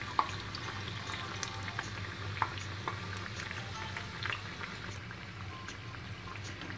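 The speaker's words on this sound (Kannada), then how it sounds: "ನೋಡಿ ಈ ತರ ಗೋಲ್ಡನ್ ಕಲರ್ ಬರೋವರೆಗೂ ಇದನ್ನ ಫ್ರೈ ಮಾಡ್ಕೊಳ್ಳಿ" Masala vada fry in oil in a pan over medium heat, a soft continuous bubbling sizzle with a few faint clicks and pops, fairly quiet and without talk.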